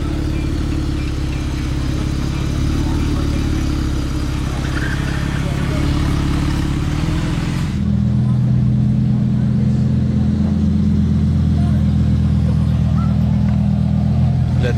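Lamborghini Huracán Tecnica with a V10 engine, a loud, close, steady engine drone that shifts to a deeper, throatier tone halfway through, with some talk around it.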